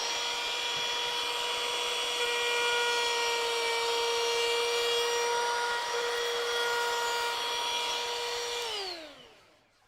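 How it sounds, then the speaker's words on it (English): A wood trimmer router whines steadily at high pitch while cutting a bench leg and rail, loud and close, then spins down at the end. "And the trimmer again, one more time. It's going to make a noise."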